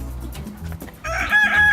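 Newly picked-up chickens riding home in a vehicle in winter give muffled clucks over the low rumble of the ride, then a loud, sustained squawk or crow near the end.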